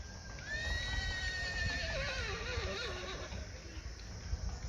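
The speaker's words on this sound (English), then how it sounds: "That horse is just hollering out because its other horse was getting harassed by some dogs." A horse neighs loudly and close by in a long whinny with a wavering, falling pitch, heard alone over steady outdoor background noise on a rural Darjeeling roadside in India.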